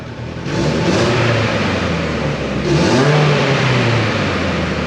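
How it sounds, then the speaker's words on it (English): A car engine fitted with a new Evo exhaust, cutout closed, revs up loudly twice from a steady rumble, each blip rising and falling over a continuous close engine drone. "Give it a rev."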